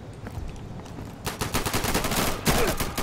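Rapid automatic gunfire in the video game Insurgency, dense bursts of shots that pick up and grow louder partway through, with no talk over them.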